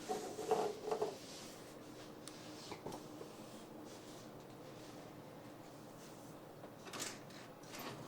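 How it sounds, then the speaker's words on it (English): A computer drawer, the kind used for setting up a sewing machine, slides and bumps with a few quiet knocks and scrapes at the start and again near the end, faint and close, with no talk. "This is a computer drawer"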